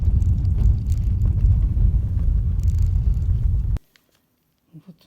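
Car driving through a spring snowstorm, a loud steady low rumble of engine, road and wind that cuts off abruptly, followed by near silence and a few faint knocks.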